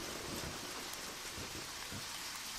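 Steady rain falls in the video game Deadly Premonition, a dense hiss of rain on surfaces with faint low rumbles beneath, continuous and without talk.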